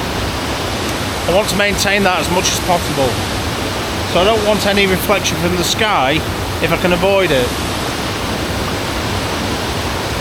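Hindhope Linn waterfall in Northumberland, peaty dark water pouring steadily as a broad, constant close rush beneath someone talking.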